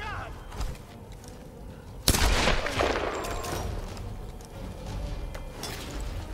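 Gunfire in the Tomb Raider video game: a sudden loud burst of shots around two seconds in, followed by a sustained rattle of firing and rumble that slowly fades, with softer game noise before it.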